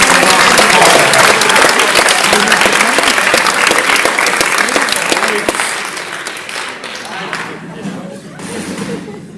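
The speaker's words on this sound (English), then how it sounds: "Give them another round of applause, guys." Audience at a hypnotism show applauding the volunteers as they return to their seats. Loud, dense clapping runs steadily, then thins and fades over the final few seconds.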